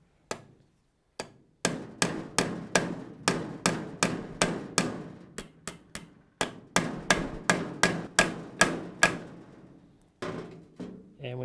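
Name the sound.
hammering a cut nail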